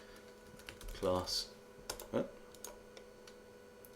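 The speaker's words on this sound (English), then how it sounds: "just hit a random key on my keyboard" Keys tapped on a computer keyboard, giving a short cluster of close, faint clicks, with a person speaking briefly over them.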